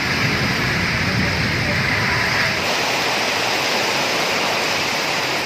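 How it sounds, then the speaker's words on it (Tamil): Heavy rain pours steadily in the Nagercoil area of Kanyakumari district, a dense, loud, unbroken hiss of downpour that stays constant throughout with no other sounds. "கன்னியாகுமரி மாவட்டம் நாகர்கோவில் சுற்றுவட்டார பகுதியில் சுமார் 1 மணி நேரமாக கனமழை வெளுத்து வாங்கியது."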